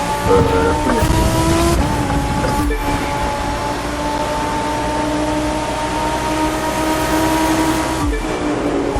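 Racing car engines in a video game race drone loudly and steadily, with layered engine tones holding on and shifting pitch slightly throughout.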